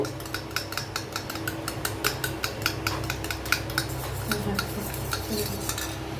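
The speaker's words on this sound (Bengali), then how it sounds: "3টে ডিম ভালো করে গুলে নেব" Three eggs are whisked briskly in a bowl, with steady rhythmic clinks and taps repeating close by over a low background hum.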